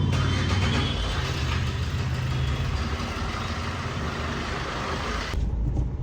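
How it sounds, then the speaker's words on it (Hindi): A car being driven out of a wheel alignment workshop, a steady engine rumble close by that continues throughout, then cuts to quieter hum near the end. "तो अब भैया गाड़ी निकाल रहे हैं बाहर"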